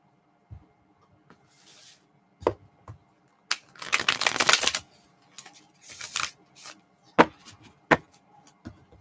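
Stiff new tarot cards are shuffled close by, with a dense riffle burst in the middle, a few softer riffles after it and scattered sharp taps as the deck is squared.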